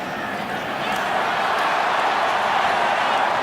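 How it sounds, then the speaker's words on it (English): A large stadium crowd roars at a college football game, Ole Miss at Arkansas in Fayetteville, as a dense, loud, continuous wash of noise that swells slightly, with an announcer talking over it. "KJ Jefferson wanting to quiet the crowd a little bit"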